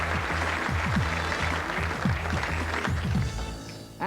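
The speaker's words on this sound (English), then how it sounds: "And a round of applause for both of them." Studio audience on a 1990s British TV quiz show gives a round of applause for two contestants, a sustained, even burst of clapping heard alongside a low background voice that fades near the end.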